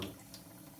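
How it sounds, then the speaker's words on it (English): Water splashes onto a diamond sharpening plate during knife sharpening, a brief close wet wash with a couple of soft splashy bursts, heard alone. "just adding a splash of water"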